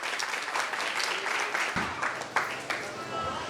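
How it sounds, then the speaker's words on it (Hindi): Loud, sustained applause fills a church during a Resurrection Day prize distribution for children, steady clapping with a few sharper bursts throughout. "जोरदार तालियां कम नहीं होनी।"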